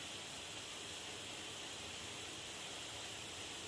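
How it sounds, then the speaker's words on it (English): A waterfall at Roughting Linn in wild Northumberland countryside throws off spray, heard as a steady, soft, even rushing hiss with no voices. "there's a lot of spray coming off the waterfall"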